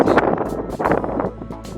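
Wind gusting outdoors beside a garden flower bed, buffeting the microphone in loud, uneven rushes over a short stretch, with no speech.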